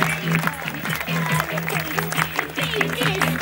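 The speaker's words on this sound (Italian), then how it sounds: "glielo facciamo un bel applauso" Applause from a restaurant audience cheering kitchen and dining-room staff at a chef's fireworks show, steady clapping with a bright hum and voices mixed in throughout.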